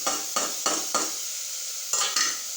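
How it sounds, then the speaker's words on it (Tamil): Chopped tomatoes and chillies go into a pan of beans and carrots, giving a steady sizzling fry broken by several scraping stirs at a brisk, uneven rhythm, close and moderately loud. "இப்போ நம்ம நறுக்கிய தக்காளியும் இந்த மிளகாயும் போட்டுருங்க."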